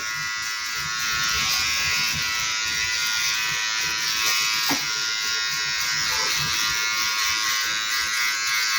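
Electric hair clipper buzzes steadily and close throughout a short men's crew cut, finishing passes at a 1 mm guard in a barber training session, with no talk over it.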